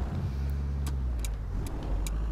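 A Mercedes S350 with an engine of just over 300 horsepower accelerating in the driving game Euro Truck Simulator 2, a loud, steady low engine drone with a few faint clicks over it.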